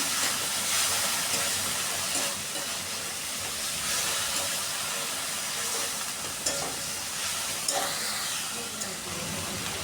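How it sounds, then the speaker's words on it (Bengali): Ground onion and garlic paste hits a hot frying pan during chicken curry cooking, giving a steady hissing sizzle with a few sharp spatters, close and continuous. "পেঁয়াজ রসুন একসাথে বেটে নিয়েছিলাম সেটা দিয়ে দিচ্ছি"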